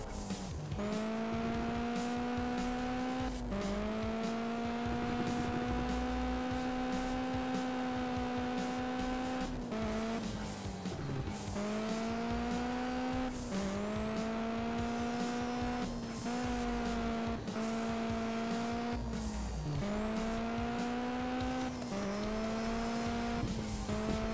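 Racing car engines drone at full throttle in the video game Juiced 2, a loud, steady roar whose pitch climbs and drops sharply with each gear shift, repeating several times without pause.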